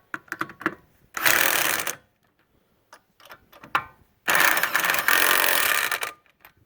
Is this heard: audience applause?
no